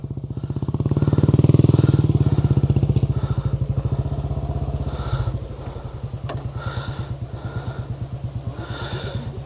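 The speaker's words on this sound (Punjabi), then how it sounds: "ਇਹ ਇਦਾਂ ਬੁਲਟ ਮੋਟਰਸਾਈਕਲ ਅਸੀਂ ਲੈ ਕੇ ਆਏ" A Bullet motorcycle's thumping single-cylinder engine chugs in a steady rapid beat on a rough forest path, swelling louder early then easing, with occasional clatter and knocks from the bumpy ground.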